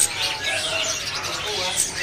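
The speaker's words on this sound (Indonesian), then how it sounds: "Ini ada burung cacungko gacoran ya." Cacungko songbirds chirp and whistle at a bird-market kiosk, giving a dense, continuous wash of overlapping calls from several caged birds close by.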